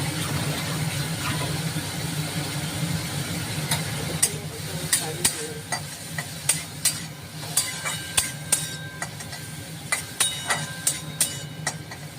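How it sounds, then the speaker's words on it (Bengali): Shrimp sizzles steadily in a hot pan, with repeated sharp scraping clicks of a spatula stirring, and a low hum underneath. "প্রথমে চিংড়ি মাছটা একটু ভেজে নিতে হবে"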